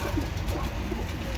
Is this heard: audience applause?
no